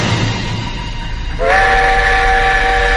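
Railway train approaching in a Bengali horror story soundscape, loud rumbling rail noise that swells midway as a sustained, piercing horn or whistle sounds and holds to the end.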